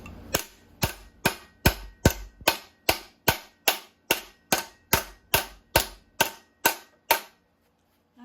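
Sharp metallic hammer strikes shaping metal into a spoon ring out in a steady, even rhythm, about sixteen blows in close succession, loud and near, with no talking.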